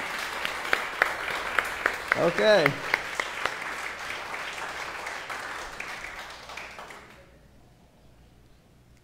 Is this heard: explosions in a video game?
no